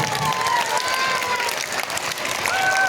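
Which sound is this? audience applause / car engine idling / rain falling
audience applause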